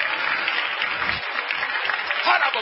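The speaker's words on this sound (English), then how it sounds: "Let's give the Lord a good hand clap of praise." A church congregation claps in praise during a sermon, a steady, full round of many hands close by, with a brief low thump partway through.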